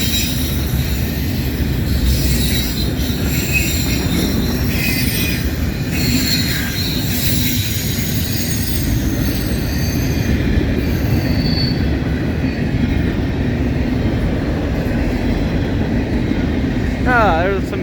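Freight train of double-stacked foreign containers passing at track speed through Homestead, Pennsylvania, led by Norfolk Southern's Norfolk and Western heritage unit 8103, a loud continuous roar of wheels and rattling cars close by, with occasional squeals and a person talking over it.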